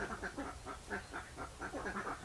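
Ducks quacking repeatedly in a garden, a busy run of nasal calls in uneven bursts, moderately close but fairly quiet, with no talk.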